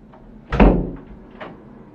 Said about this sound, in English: Now we close the door.